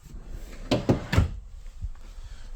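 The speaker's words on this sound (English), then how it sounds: "we have 3 full extension drawers in the island as well" Full-extension drawers in the kitchen island of a 2022 Bighorn 32RS fifth wheel RV, three quick close-set sliding thunks as they open and shut, near and fairly loud, then quiet rustling.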